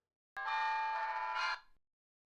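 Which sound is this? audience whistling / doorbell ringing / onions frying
doorbell ringing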